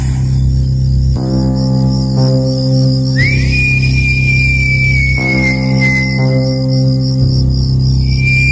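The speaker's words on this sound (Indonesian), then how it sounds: "suara siulan itu terdengar lagi." A clear, sustained high whistle-like tone glides and holds over a steady background drone with pulsing insect-like buzzing.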